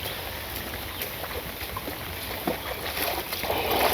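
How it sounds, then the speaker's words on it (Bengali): A five-year-old wooden boat built of gajari wood crosses a village river, giving a steady rush of water and wind noise that swells slightly toward the end, with no voices. "এখানে নৌকা করে পার হবো।"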